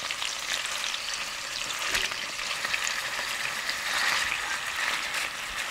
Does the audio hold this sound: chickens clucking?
no